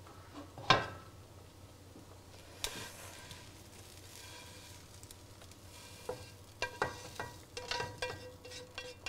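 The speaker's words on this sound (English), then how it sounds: "what we're gonna do is just add the meat to the sauce" Meat going into tomato sauce in a pan for quick spaghetti, heard as a soft sizzle with a sharp clatter near the start, then scattered utensil scrapes and taps. No one talks.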